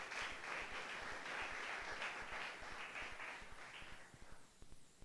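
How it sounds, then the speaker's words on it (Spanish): A church congregation applauding during a sermon, a broad wash of many hands clapping with a quick, even beat that fades and thins out toward the end, heard faintly at a distance. "¿Cuántos aplauden el nombre del Señor?"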